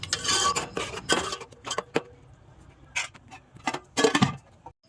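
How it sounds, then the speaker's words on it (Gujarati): A spoon scrapes and clinks against a pot while tomato paste is stirred into khichdi cooking on a clay stove, heard in short close bursts with quiet gaps between. "હવે આપણે ટમાટરના પેસ્ટને નાખી દઈશું અને થોડી વાર હલાવીએ એટલે સરખી રીતે મિક્સ થઈ જાય."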